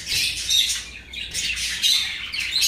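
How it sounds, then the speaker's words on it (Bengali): A hill myna at a busy bird market in Mirpur, Dhaka, gives repeated harsh, close squawks and shrill whistling calls in quick bursts over a few seconds. "খুব চমৎকার পাহাড়ি ময়না পাখি দেখতে আছে"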